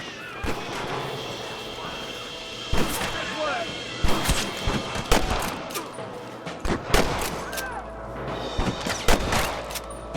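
Gunfire in a Red Dead Redemption shootout: repeated sharp shots in uneven bursts over a continuous background of game sound.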